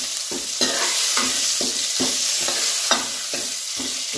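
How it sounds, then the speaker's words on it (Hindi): Garlic, chilli and ginger stir-fried in a pan for dal makhani: a steady sizzle runs underneath while a utensil scrapes through in regular strokes about every half second, close and clear, with no voices. "इसके बाद हम डालेंगे लहसुन, मिर्च और अदरक जो कि मैंने काट रखा था, और फिर हम इसको कुछ ऐसे ऐसे ऐसे ऐसे"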